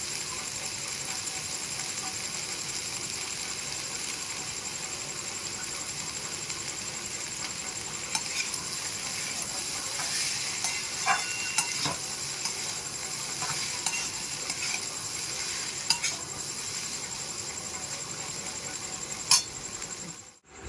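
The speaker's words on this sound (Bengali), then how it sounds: "এটাকে আমি একটু হালকা আঁচে পাঁচ মিনিট ভেজে নেবো" Chickpeas frying gently over low heat in a pan with Maggi masala, a steady soft sizzle with occasional faint scrapes and clicks of stirring, no voices.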